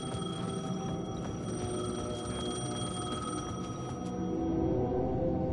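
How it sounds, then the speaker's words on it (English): A telephone rings in the video game Alan Wake, a steady electronic ringing tone that holds continuously over a low background ambience, clear and up close, with no voices. "The phone was ringing."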